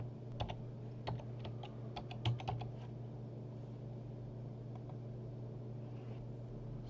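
A computer keyboard is typed on in short clusters of soft, close keystrokes during the first few seconds, over a steady low mechanical hum, then only the hum remains.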